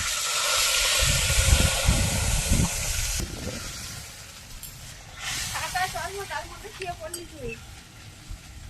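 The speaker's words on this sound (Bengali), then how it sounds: "গোটা জিরে আর গোটা গরম মশলা দিয়ে দিলাম। ফোড়নটা একটু ভেজে নেব।" Whole cumin seeds and whole garam masala tempering sizzle in hot oil in a pan, a steady frying hiss with some stirring, while a voice talks over it.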